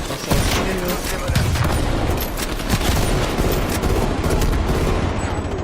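Dense, continuous gunfire from a Call of Duty Cold War multiplayer match, with a sniper rifle among rapid overlapping shots, booms and bursts, loud and close throughout.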